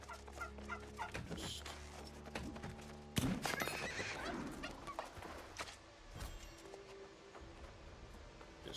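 A bird is being hit in the video game Fallout: gobbling, squawking fowl cries and sharp impact thuds, with one loud strike partway through.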